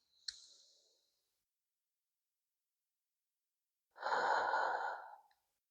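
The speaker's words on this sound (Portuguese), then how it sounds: "respiração profunda," A deep, slow breath during a breathing exercise: a brief click and soft exhale, a long pause of silence, then one long, airy, close breath lasting over a second.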